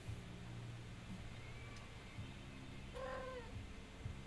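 A cat gives a couple of faint, brief meows, one short and one slightly longer, over a quiet indoor background hum.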